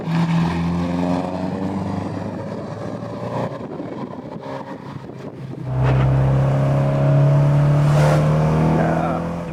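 An Alfa Romeo 75 2.0 Twin Spark's engine drones steadily from inside the cabin, dipping in the middle before rising again to a stronger, higher-pitched run, with faint talk underneath.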